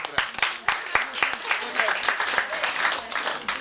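At a village festival in Karjaküla, an outdoor audience applauds young performers with a dense burst of many clapping hands and sharp individual claps, with voices mixed underneath.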